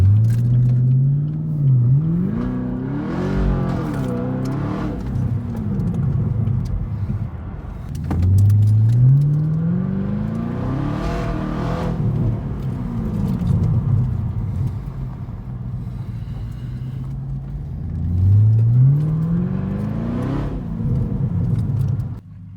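A Chevrolet car parked for months through a Canadian winter, its engine running and revving in repeated rising swells over a steady loud idle rumble, close by and alone.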